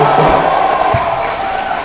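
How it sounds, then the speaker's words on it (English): Crowd at a professional basketball game between Westports Malaysia Dragons and Indonesia Warriors, a loud roar of cheering that slowly eases, with a commentator's voice and a brief thump. "Crowd getting into it."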